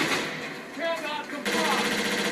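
Suppressing machine-gun fire in Operation Flashpoint: Dragon Rising starts after a shouted voice and becomes a dense, rapid, rattling burst that carries loudly to the end.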